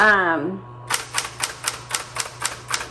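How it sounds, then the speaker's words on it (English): A Smith Corona Chancellor typewriter has its backspace key pressed repeatedly: about eight evenly spaced, crisp mechanical clacks, close and clear, following a brief spoken phrase at the start. "Backspace, let's try the backspace. Backspace works great."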